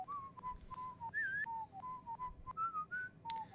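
A traveling bard in the game Warsim whistles a lengthy old gnomish tune, a close, clear run of short, slightly wavering notes that step up and down. No one talks over it.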